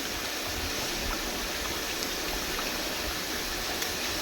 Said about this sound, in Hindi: ये सब्ज़ी को अच्छी तरह से धो लूँगी।